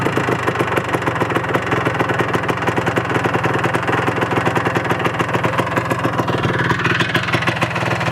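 A 1983 Honda ATC 250R three-wheeler engine runs close up at a steady, crisp idle with rapid, even firing pulses and no talk.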